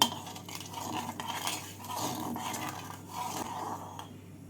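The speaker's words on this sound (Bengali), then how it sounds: "প্রথমে পটলগুলোকে ভেজে নিচ্ছি পটলগুলোকে তেলের মধ্যে নাড়াচাড়া করে নিয়ে" Pointed gourd (potol) frying in oil is stirred in the pan, with repeated clinks and scrapes of a utensil against metal over a low, steady background.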